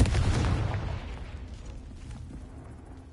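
A Confringo fire spell detonates in Hogwarts Legacy, a single loud booming blast that rumbles at the start and then decays slowly into a low ringing tail, with no voices over it.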